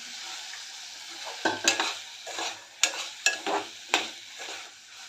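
Shelled field beans (pavta) and potato are sautéed in a pan with a steady close sizzle, broken by a series of spoon scrapes and clacks against the metal. Nobody speaks.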